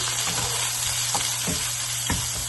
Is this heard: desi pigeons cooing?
no